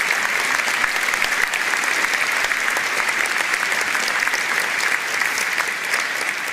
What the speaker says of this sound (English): Can we just have a round of applause for the set as well this evening